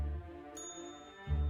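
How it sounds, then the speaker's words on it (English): A hotel front desk bell in the video game Slender Threads gives a single bright metallic ding that rings out cleanly and decays over a steady low background hum. "No hotel front desk is complete without a bell."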